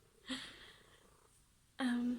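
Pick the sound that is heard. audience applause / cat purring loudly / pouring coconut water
cat purring loudly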